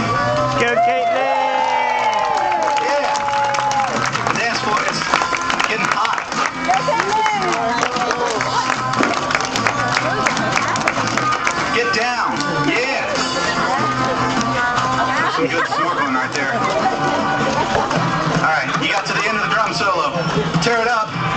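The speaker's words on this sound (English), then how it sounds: "you guys need to cheer them on" A zoo audience cheers on a girl dancing, with a loud, steady crowd roar of shouts and whoops over music, and a voice speaks through it.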